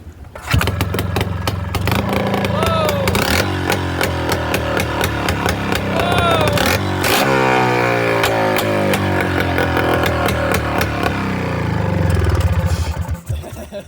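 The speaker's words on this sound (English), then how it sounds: "Why do two-strokes sound so gosh darn good straight piped?" Straight-piped two-stroke snowmobile engine mounted on a four-wheeler, run without its plug on, sputtering to life and revving loudly in ragged bursts, close by, with rising and falling pitch sweeps.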